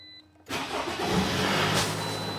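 A Toyota RAV4 engine cranks and catches after the ignition is switched on, settling into a steady, fairly loud mid-pitched idle following a short quiet pause.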